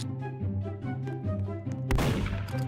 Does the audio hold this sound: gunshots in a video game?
yes